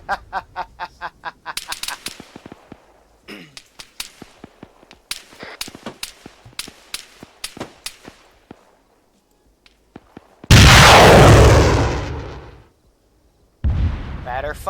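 Rapid salvo of multiple rocket launcher fire in a military video game, a quick train of sharp distant launches followed by a loud roaring blast that swells and fades, then another burst of roar.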